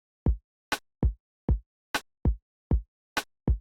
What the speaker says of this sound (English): Or just remove the top kick and replace the snare with the kick.